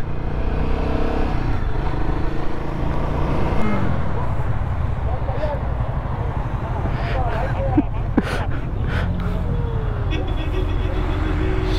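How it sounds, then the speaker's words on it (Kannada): Several motorcycles and vehicles idling and revving together on a road trip near a waterfall in India, a steady close engine rumble with occasional horn-like tones and people talking over it. "ಎಲ್ಲ ಗಾಡಿ ಸ್ಟಾರ್ಟ್ ಮಾಡ್ಕೊಂಡಿದ್ದಾರೆ"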